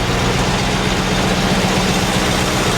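A Range Rover Classic engine idles steadily up close, a low, even rumble with a faint tick running throughout and no voices over it.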